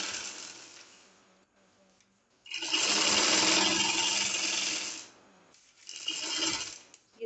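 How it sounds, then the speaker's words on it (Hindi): A sewing machine runs stitches on a fancy shirt, fitting seam on the second side, in a burst of about two and a half seconds, then a shorter run after a pause, with faint quieter whirring before. "अब हम दूसरी साइड की भी फिटिंग की सिलाई लगाते हैं।"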